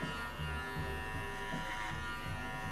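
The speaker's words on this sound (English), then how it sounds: "So we're going to pull down with the clipper." Hair clipper fitted with a number 2 guard buzzes steadily and close as it cuts hair, a constant motor hum with slight dips in tone as it moves.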